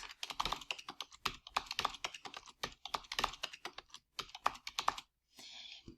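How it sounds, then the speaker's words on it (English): Rapid, steady typing on a computer keyboard, close and clear, with clusters of keystrokes and brief pauses, ending in a short hiss-like tail. "So I would type science into each of these blocks."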